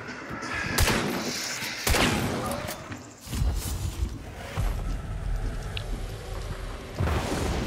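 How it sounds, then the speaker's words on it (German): Gunshots ring out in the video game Hunt: Showdown, several sharp booming cracks at irregular intervals with rumbling echoes, amid ambient game noise. "Oh, die Schüsse kommen her."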